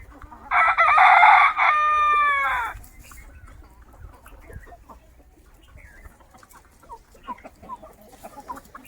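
A large village rooster in a flock of parent-stock country chickens crows loudly and close by, one long drawn-out call, followed by faint clucking and scattered hen noises in the background.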